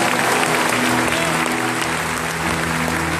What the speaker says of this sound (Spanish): Un aplauso a nuestra Madre